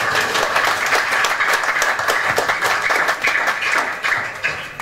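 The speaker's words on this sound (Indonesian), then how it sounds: "boleh tepuk tangan, Pak" An audience at a counter-terrorism prevention talk breaks into steady, loud applause, many hands clapping continuously for several seconds with a slight dip before picking up again.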